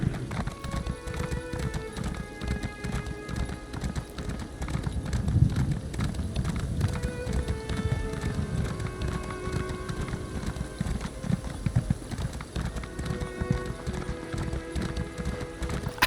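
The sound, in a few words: horse hooves galloping in The Elder Scrolls Online video game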